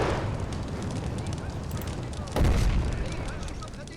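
Distant artillery shells landing in a Chaco War 1933 strategy game, a dull boom rising out of a dense wash of battle noise and gunfire midway through, with a voice talking over it.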